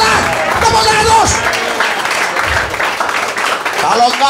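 A church congregation at a Christmas service claps and applauds, with loud, continuous clapping mixed with crowd noise and voices calling out over it.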